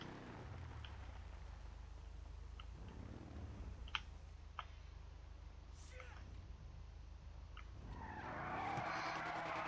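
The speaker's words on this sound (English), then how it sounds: "we shouldn't need to burn out anymore, but I will anyways" A car doing a tire burnout in GTA 5: a steady, droning engine and tire roar runs throughout with a few faint clicks, then a louder rising screech of spinning tires near the end.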